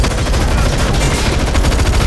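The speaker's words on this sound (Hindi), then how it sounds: "उठाई और उन लोगों पर अंधाधुंध फायरिंग शुरू कर दी।" Heavy gun firing indiscriminately in a movie scene, rendered as a loud, continuous stream of rapid automatic gunfire with dense bursts and no pauses.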